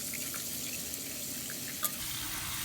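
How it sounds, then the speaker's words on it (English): Tap water runs steadily over a styrofoam plate lying in the bottom of a sink, a continuous close hiss and splash with one small clunk near the end. "I put mine on the bottom of the sink and run water over it and scrub gently with a paintbrush."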